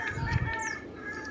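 Young gamefowl chicks cluck and peep faintly amid a steady background hum, a few short calls rising over low thumping noise.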